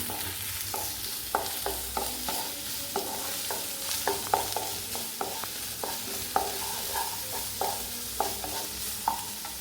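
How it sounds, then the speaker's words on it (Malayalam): A spatula stirs vegetables and curry leaves in a hot pan, giving rhythmic scraping knocks every half second or so over a continuous soft sizzle, close and clear with no talking. "ഇത് ഇത്രയും നന്നായിട്ട് ജസ്റ്റ് ഒന്ന് നന്നായിട്ട് ഇളക്കി കൊടുക്കണം"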